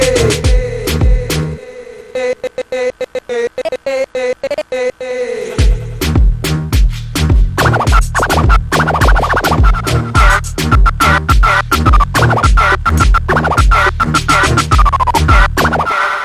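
Record scratch effect built with Live Transform in Sony Acid Pro 7, with repeated rapid back-and-forth scratch strokes cut over a looping beat with bass, loud and continuous throughout.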